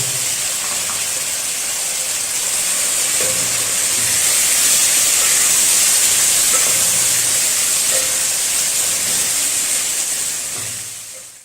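Chicken frying in a pan for a vegetable chicken macaroni dish, a steady loud sizzling hiss that runs unbroken throughout and fades slightly at the very end.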